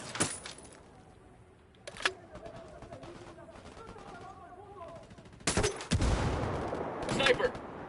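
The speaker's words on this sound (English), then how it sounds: "Opening fire." Gunfire in Ghost Recon Wildlands, a tactical shooter, starts as a few sharp bursts and builds into loud, heavy automatic fire at the end, with talking in the background.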